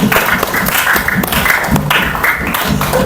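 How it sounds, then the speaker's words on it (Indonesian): A classroom group applauds a student team, dense overlapping clapping that stays loud and steady throughout the few seconds, with no talk over it. "Tepuk tangan untuk kelompok 3."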